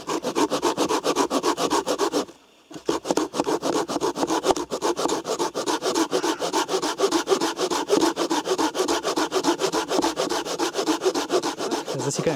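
Fast, continuous sawing through frozen dead wood with a folding Fiskars hand saw, a harsh rasping stroke repeated rapidly and close, with one brief pause near the start.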